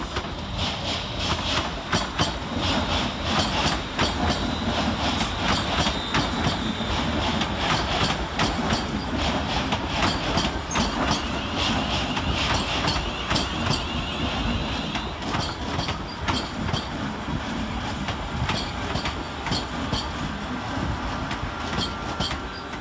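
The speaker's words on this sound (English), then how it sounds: "Arriving to terminate with a London Northwestern Railway service off Tring is 350-408 and 350-107." London Northwestern Railway class 350 units from Tring roll into London Euston, a steady rumble with clacking wheels over joints and occasional squeals, close by and continuous.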